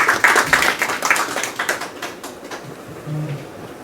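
An audience at a Savitribai Phule Jayanti gathering applauds to welcome the next speaker, a lively burst of clapping that gradually thins and fades, with a brief voice near the end.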